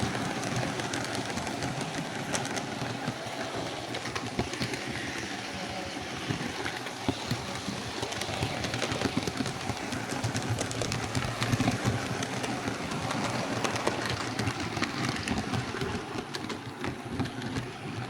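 A model train locomotive rolls along its track in a steady, faint, continuous rumble and clatter with light rail noise throughout, heard close as if from a camera mounted behind it; no talk.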